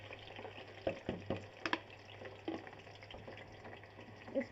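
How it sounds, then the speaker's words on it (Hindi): Onions frying toward golden in a pan for brinjal bharta, a faint soft sizzle broken by a few light stirring clinks and scrapes. "इसको मैंने गोल्डन फ्राई करना है प्याज को"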